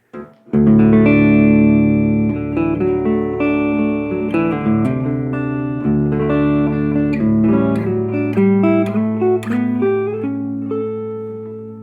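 Clean guitar through a Supro amplifier with reverb switched on, chords and melodic lines blooming with a spacious tail, played alone at steady volume for about twelve seconds.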